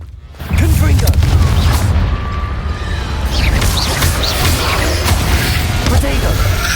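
The Confringo blasting spell erupts in a video game as a heavy, close boom that holds as a loud rumbling roar for several seconds, with a voice speaking over it.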